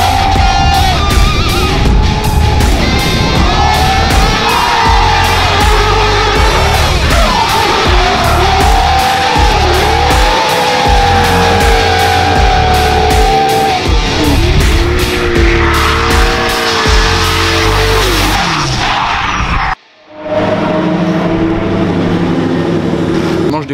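Drift car lapping a track at a Drift Masters round in Sweden, engine screaming loud and near with continuous tire squeal and skidding, then a sudden cut before the engine resumes lower.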